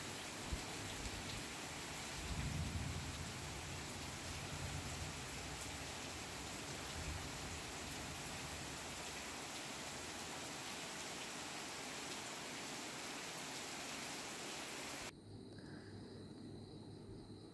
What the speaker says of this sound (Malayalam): ആ സമയത്തേക്ക് പുറത്ത് നല്ല മഴ പെയ്യുകയാണ്.